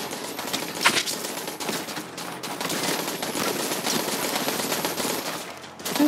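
Continuous, loud gunfire in the shooter game Borderlands 3, rapid shots blurring into dense bursts for several seconds with only brief dips.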